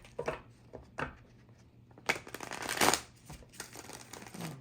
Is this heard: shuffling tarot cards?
yes